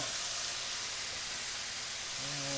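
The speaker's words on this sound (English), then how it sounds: "Just want to get a little sear on them, par cook them." Food searing in a pan, par-cooking to get a little sear, a continuous broad sizzling hiss at low level, with a faint hum entering near the end.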